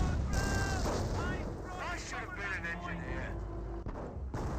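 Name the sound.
Panther tanks firing in the video game Company of Heroes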